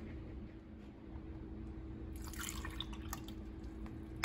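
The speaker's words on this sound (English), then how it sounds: "filling up our can with some water" Water pouring from a tap into a can for making dough, a faint steady trickle and drip that turns into a brighter splashing fill partway through.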